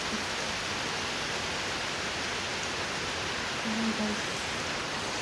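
Steady rain falls in a dense, even hiss around a home in Kerala, a constant wash of sound with no talking.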